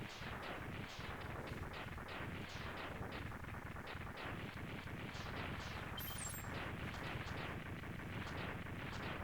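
Rapid explosions in the Mega Man X3 randomizer fire in a dense, continuous barrage, loud and crackling throughout with no pauses.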